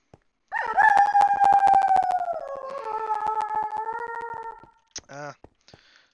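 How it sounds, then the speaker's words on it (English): A wolf in Minecraft lets out a long, loud, raspy howl that slides slowly downward over several seconds, followed by a few short yips and whines. "The wolf's feeling a little croaky like myself."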